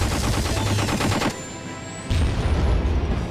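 A tank firing at the player's plane in the Airfix Dogfighter video game: loud, dense rapid gunfire that rattles steadily, drops away for under a second, then resumes just as hard.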